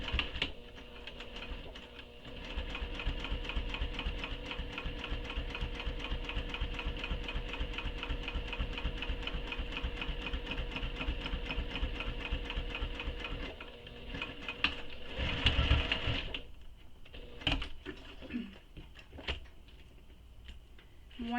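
A sewing machine stitching a fabric belt bag runs in a steady rapid stream of needle strikes for about fourteen seconds, then stops, followed by a few scattered handling clicks and rustles.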